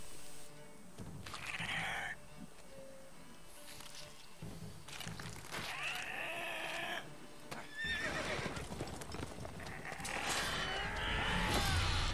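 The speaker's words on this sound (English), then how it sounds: "That's a horse." Horse whinnies in The Witcher 3: Wild Hunt, played on Xbox, sounding in several separate bursts with hoof and game noises between them and a louder stretch near the end.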